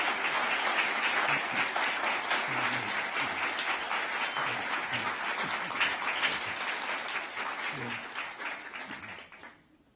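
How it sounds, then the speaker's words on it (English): Sustained audience applause fills a hall at a NASA aviation and space excellence event, dense and steady before tapering off at the end. "Round of applause for that."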